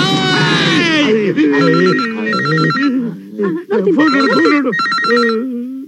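A telephone bell rings in repeated bursts during a Kannada comedy film scene, loud but partly under overlapping dialogue as people talk over it.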